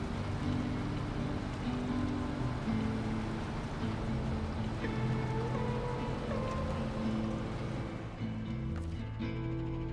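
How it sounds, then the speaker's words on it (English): Low-fuel truck engine in the off-road driving game SnowRunner, a continuous steady rumble with shifting tonal drone, loud and unbroken with no talk over it. "Hear the engine."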